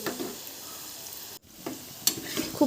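Rice snacks frying and puffing in hot oil over a medium flame, a dense steady sizzle with a brief dip and scattered crackles and utensil taps, no one speaking.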